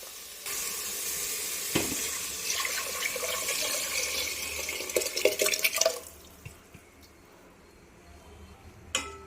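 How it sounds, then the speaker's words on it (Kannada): Coconut milk, bottle gourd juice and water poured into a pot of fried spices for veg pulao, a loud rushing sizzle and splash for several seconds with a few knocks, fading to a quiet simmer. "ಇದಕ್ಕೆ ನಾವು ಬೆರೆಸ್ಕೊಂಡು ಇಟ್ಕೊಂಡಿರೋ ಕೊಕೊನಟ್ ಮಿಲ್ಕ್, ಸೋರೆಕಾಯಿ ಜ್ಯೂಸು, ನೀರು ಸಹಿತ ಹಾಕ್ಬಿಡ್ಬೇಕು"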